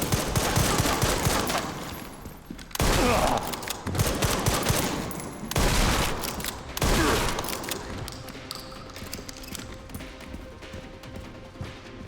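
Video game shotgun fire, played on an upgraded level-2 shotgun, bursts out in several loud, dense volleys over a steady backdrop of in-game ambience and effects.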